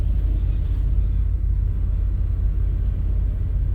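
CN freight train L563 northbound rumbles steadily past in Ladysmith, Wisconsin, a deep continuous low roar with no voices.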